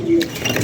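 A pigeon gives a short, soft coo nearby during rainy weather, a single brief call over faint background patter.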